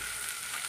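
Cabbage fries in a pan with a brief, steady sizzle, soft and even throughout.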